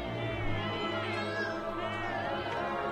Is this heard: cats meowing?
yes